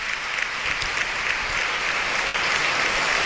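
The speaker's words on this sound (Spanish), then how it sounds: "recibe otra gran ovación" An audience gives an ovation to the Seville Holy Week proclaimer, producing sustained, dense applause from a large crowd that is loud and even throughout, with a brief dip near the end.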